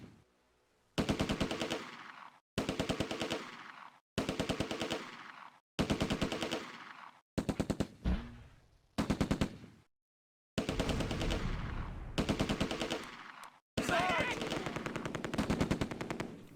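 A German MG42 machine gun in the Close Combat: A Bridge Too Far war game, firing repeated long rattling bursts separated by short silences, loud and close, with one heavier burst near the end.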